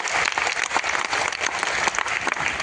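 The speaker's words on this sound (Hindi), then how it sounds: "इसलिए हमारे गुरुदेव के लिए एक बार जोरदार ताली होना चाहिए" Loud, sustained applause from a seminar crowd honouring their teacher, a thick wash of many clapping hands that carries on evenly without pause.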